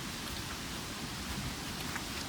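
Steady rain pours down continuously, a dense even hiss of drops hitting surfaces with no voices.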